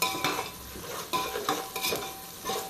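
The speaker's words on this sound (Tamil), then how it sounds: "கையை பிடிச்சிட்டே கிண்டுறேன்னா பேலன்ஸ் கிடைக்காது அதனால் பிடிச்சிக்கிட்டே கிண்டிகிட்டு இருக்கேன்" A utensil stirs half-softened onions for chicken biryani in a pot, producing several close scraping strokes and clinks against the metal over a soft sizzle, with no voices.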